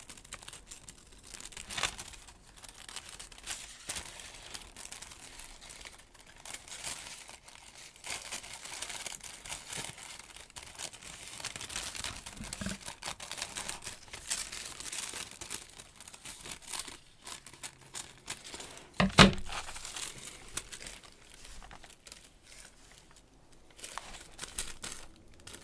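Translucent collage tissue paper is handled and crinkled at close range during art journaling. Soft, irregular rustles and crumples continue throughout, with one sharper crinkle burst partway through, and nobody speaks.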